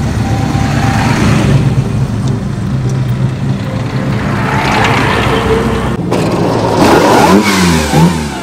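A 1950s Mark 1 Jaguar saloon engine runs loud and close, a steady rumbling drone that swells as it revs near the end, with no voices.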